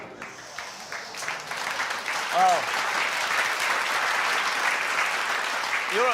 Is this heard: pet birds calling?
no